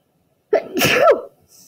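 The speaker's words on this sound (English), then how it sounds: "I have a sneeze coming." A single loud, close sneeze with a sharp intake and explosive burst in a classroom lesson, then quiet.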